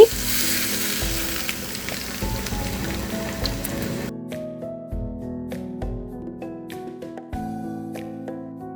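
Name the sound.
hot oil poured over chicken momo filling, sizzling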